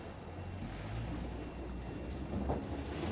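Arksen Discovery 8 motor boat running its engines through rough seas, a steady low engine drone mixed with wind buffeting and the hiss and slap of waves against the hull, with no talking.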